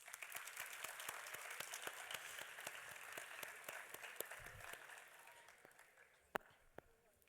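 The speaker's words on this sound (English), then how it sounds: "Big round of applause." Distant applause from a school assembly audience after a performance, steady clapping that gradually fades, with a few sharp isolated claps near the end.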